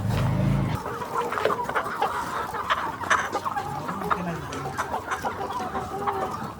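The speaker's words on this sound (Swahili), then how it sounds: "tunasikia kama kunakuwa na kuku nyingi" A flock of poultry clucks and squawks repeatedly at a chicken farm in the Kalobeyei settlement in Kenya, with busy overlapping calls at moderate distance throughout.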